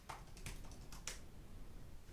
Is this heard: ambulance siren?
no